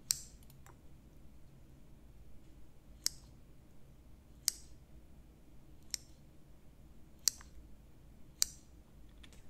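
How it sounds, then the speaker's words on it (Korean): Scissors snip through thawed Korean rice cake (garaetteok), producing about six sharp, isolated clicks spaced a second or two apart over a quiet low hum, close and fairly crisp. "해동된 가래떡은 가위를 사용해서 잘라주시면 되는데요"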